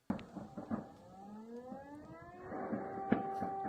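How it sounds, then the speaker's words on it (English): Air raid sirens wail over a city under rocket attack in wartime Ukraine, long rising and falling tones overlapping at a moderate distance, with scattered impacts and background noise beneath. "Hear a little air raid sirens going off."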